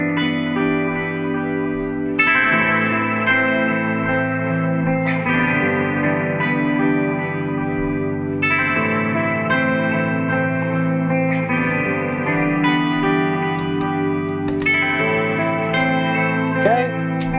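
A looper pedal loops an electric guitar playing repeating chord phrases drenched in heavy reverb and echo, sustained and loud, with notes ringing long into each other.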